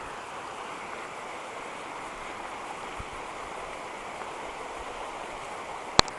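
Steady, continuous rush of flowing water like a creek, heard alone with a single faint click near the end.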